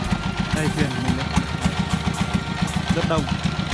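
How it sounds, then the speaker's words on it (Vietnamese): Small riverboat motor chugging steadily on a river in Son La, a near, rhythmic engine putter with a person talking over it. "Đây thuyền của mình đây."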